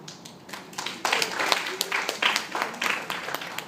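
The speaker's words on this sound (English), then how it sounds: "They're clapping for your previous" Audience clapping at a poetry reading, a scattered burst of applause that swells and stays busy for a few seconds, with dense overlapping claps in a room and some voices mixed in.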